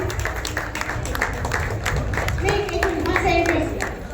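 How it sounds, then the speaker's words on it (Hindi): An audience claps in steady applause as a guest is welcomed onto the stage at a Women's Day celebration, while an announcer's voice continues over the clapping. "जोरदार तालियों से स्वागत करेंगे।"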